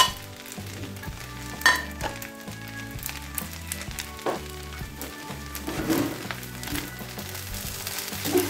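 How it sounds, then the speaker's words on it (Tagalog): Scrambled egg and Chinese sausage fry in a hot pan with a steady sizzle, broken by occasional scraping stirs and clinks. "ilalagay ko na yung scrambled egg at saka yung Chinese sausage"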